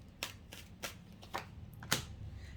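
Tarot cards being shuffled by hand, with several quick papery riffles and slaps in an irregular rhythm, close and fairly soft.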